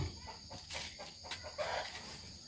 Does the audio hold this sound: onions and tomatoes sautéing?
no